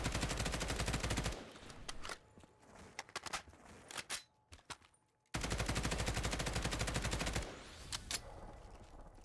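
Rapid automatic gunfire from a gun in a Call of Duty custom zombies game, two long close bursts separated by a few seconds of quieter in-game sounds and a short silence.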